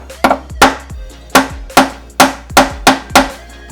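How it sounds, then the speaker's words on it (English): Sharp metallic taps of a hammer tapping in a brake hose clip on an 8th-generation Honda Civic ring out one after another, about ten strikes in an uneven rhythm, close and loud with short decays between hits. "tapping it in with a hammer."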